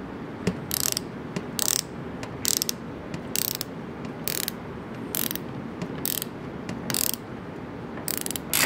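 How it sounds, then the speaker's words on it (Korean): A Wera Zyklop 8009 pocket ratchet screwdriver with a 72-tooth mechanism clicks in about a dozen short, quick bursts, close and crisp over faint background noise. "베라만의 오도 각도 라쳇 기능인데요"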